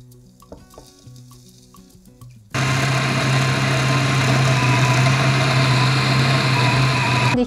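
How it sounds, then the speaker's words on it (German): An electric grinder milling oat flakes starts abruptly after a quiet stretch of faint clinking, then runs as a loud, steady whirring drone with a gritty, rattling texture until the end. "Und meine Haferflocken werden gemahlen."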